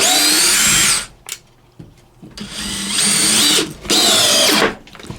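DeWalt 20V compact drill driving and countersinking screws, three loud whining bursts of about a second each separated by short quiet pauses, close up with no talk.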